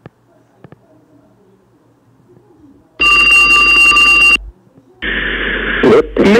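An ex-directory home telephone rings in two loud electronic bursts, each lasting over a second with a short gap between them, after a stretch of near silence.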